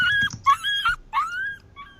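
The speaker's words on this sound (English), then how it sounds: "Is that your dog?" A puppy whimpers and yelps in high, tremulous cries, several short whines broken by brief pauses, close and fairly loud with no talk over it.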